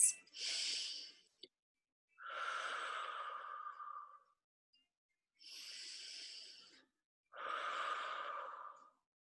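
Slow, deep breathing during a core-strengthening exercise, with four long airy breaths close to the microphone, alternating between higher-pitched and lower, breathier ones, separated by quiet pauses, with no talking.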